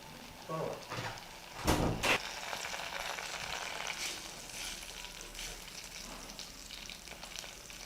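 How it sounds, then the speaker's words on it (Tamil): Butter melts in a kadai on the stove with a soft, steady sizzle, fairly faint and continuous, broken early by a couple of brief metallic knocks from the pan. "கடாய் அடுப்பில் வச்சுட்டு நம்ம எடுத்து வச்சுருக்கக்கூடிய பட்டரை இதில் போடுங்க பட்டர் நல்லா உருகட்டும்"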